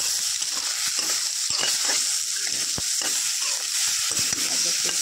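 Capsicum and egg curry stirred in a pan, a continuous hissing sizzle broken by repeated sharp scrapes and knocks of the spoon against the metal, close and fairly loud.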